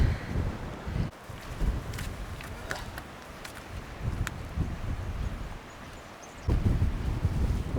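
Strong gusting wind on a coast of orange rocks and clear blue water, roaring across the microphone in low rumbling bursts that ease briefly and then surge back loud near the end.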